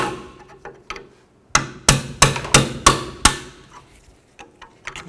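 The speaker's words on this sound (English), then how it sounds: "If you take a pry bar and a hammer," A series of sharp metallic hammer blows on the rear brakes of a 2004-08 Ford F-150, about six strikes in quick succession, ringing bright and close, with a few lighter taps before and after.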